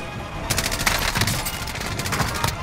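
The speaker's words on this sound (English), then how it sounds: "Heavy machine gun." Heavy machine gun fire in Metal Slug, a fast, even stream of punchy retro arcade shots that starts abruptly and keeps hammering without pause.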